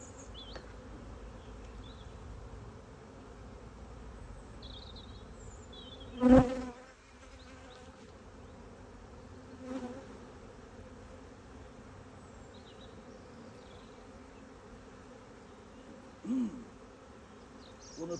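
A honey bee colony hums steadily close by while a hive is inspected. A few individual bees buzz loudly past now and then, and there is no talk.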